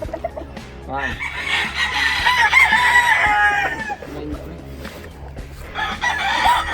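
Gamecock roosters on a farm crow loudly and repeatedly up close, long strained calls overlapping with scattered clucks, while someone speaks briefly.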